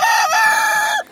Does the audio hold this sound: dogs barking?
no